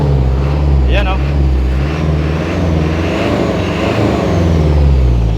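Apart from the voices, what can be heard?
Isuzu 4HL1 diesel engine running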